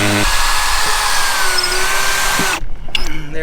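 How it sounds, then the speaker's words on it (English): Loud, close power drill runs continuously as it bores a hole for a shackle on a small boat, then cuts off abruptly near the end. "So just going to drill a hole here."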